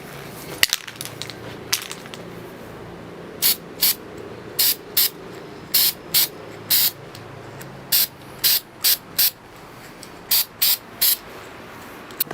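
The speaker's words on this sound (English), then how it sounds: "I'm now going to spray a layer of fine texture paint over the top of the coarse texture paint." Short repeated bursts of spray hiss from an aerosol can of fine texture paint, about a dozen quick blasts in an irregular rhythm over a steady background hum.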